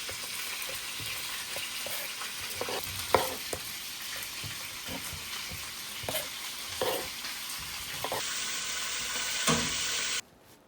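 Short ribs and chuck roast brown in rendered fat, giving a steady close sizzle and hiss with occasional soft knocks of a utensil, until the sound cuts off abruptly near the end.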